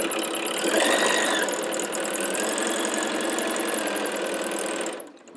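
A sewing machine chain-pieces quilt blocks into rows with quarter-inch seams, stitching in a fast, even rattling run for about five seconds before stopping abruptly.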